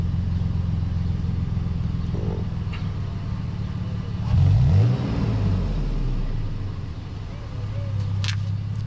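A 2018 Toyota 4Runner fitted with an aFe catback exhaust idles with a deep rumble, then revs up sharply once before settling back and rising again, with faint voices nearby.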